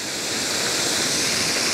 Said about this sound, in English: And it is raining as well now.